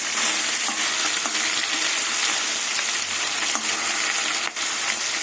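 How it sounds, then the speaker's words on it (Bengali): Tengra fish fry in hot oil with a loud, steady crackling sizzle close up, broken by a few faint scrapes and knocks and no talk. "এবার মাছগুলো তেলে ভেজে নেব"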